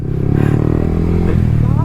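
A motorcycle racing at full power in a V3 versus NS160 drag race gives a loud, close, steady engine drone with rushing wind, and a voice may be partly mixed in.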